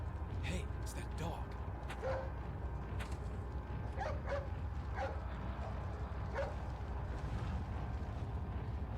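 A dog in Resident Evil 4 gives repeated short barks and yelps in a steady series, mid-distance, over a low rumbling game ambience, with someone talking over it.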